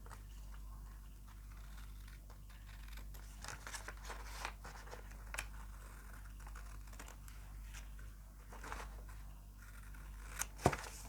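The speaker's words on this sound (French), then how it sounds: "Je vais prendre les ciseaux et les découper." Scissors snip out paper shapes in a quiet room, a series of small, faint, irregular cuts and crisp clicks with no talking.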